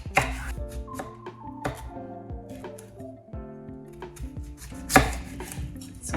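Potatoes are cut into medium pieces with a knife on a cutting board, producing a rapid, irregular series of sharp, close-up chops and taps, with a few louder knocks along the way.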